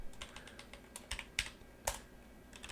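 Rapid, uneven keystrokes on a computer keyboard tap out in quick clusters, close and fairly quiet, with a few louder presses and brief pauses between bursts.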